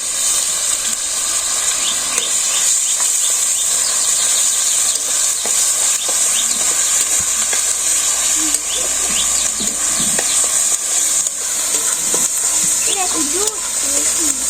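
Spices for chicken biryani fry in hot oil with a steady, bright sizzling hiss that holds evenly throughout, while a voice speaks faintly beneath it.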